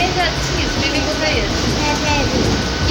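A passenger train in motion gives a continuous rumbling, rattling hum from inside the carriage, steady throughout with faint voices beneath.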